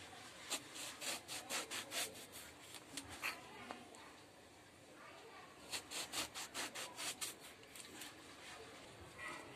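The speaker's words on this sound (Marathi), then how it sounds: "अशा प्रकारे हे सगळं कापून घेणार आहे" A knife cuts eggplant into thick slices on a board in quick rhythmic bursts of short scraping strokes, pausing midway before another fast run of cuts.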